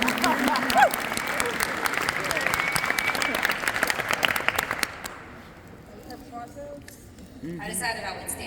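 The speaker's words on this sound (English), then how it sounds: "Please give them a roaring applause." An audience at a construction trades event gives loud, sustained applause for about five seconds, which then fades as a person begins speaking.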